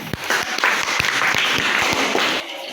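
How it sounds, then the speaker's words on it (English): Classroom applause for a maths lesson on square numbers, a burst of scattered hand claps with sharp individual hits over a dense wash of clapping, steady for a couple of seconds then easing off. "Let's clap for that."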